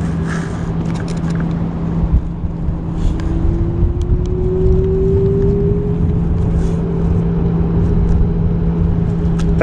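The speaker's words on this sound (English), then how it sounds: "Got a car behind me." A car engine drones steadily behind a Gyroor Urban Max C1 electric scooter on a windy, chilly road, with a rising whir as it draws closer under constant wind noise.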